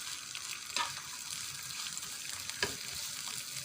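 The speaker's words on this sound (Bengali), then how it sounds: "দিয়ে দিলাম শুকনো মরিচ 4টা, রসুন দিলাম 1টা, আর পেঁয়াজ পরিমাণ মতো দিয়ে এটাকে আমি ভেজে নেব।" Steady sizzling of four dried chilies, garlic and onion frying in hot oil for a jackfruit-seed mash, with a couple of sharp crackles and stirring scrapes, close and continuous.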